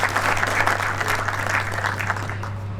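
An audience at a Republic Day celebration at a defence academy applauding, dense steady clapping from many hands over a constant low hum, gradually easing off toward the end.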